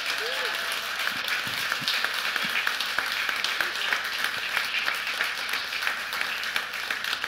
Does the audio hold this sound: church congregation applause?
yes